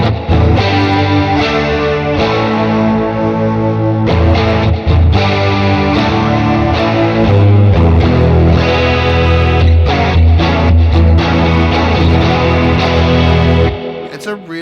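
Electric guitar played through an MXR Double Down in a wet/dry rig, loud and close, with thick distorted, chorus-widened tones and echo, sustained riffs running continuously for about fourteen seconds before cutting off.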